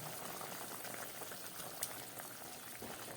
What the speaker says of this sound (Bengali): তরকারিটা আমার ফুটে উঠেছে কুমড়ো আলুর তরকারি